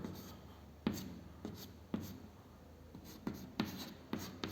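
Chalk or marker strokes scratch across a board while the aspirin formula is written, a series of short, faint, rhythmic rubs and taps with brief pauses between strokes.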